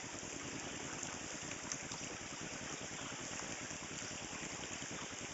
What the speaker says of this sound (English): Another babbling brook.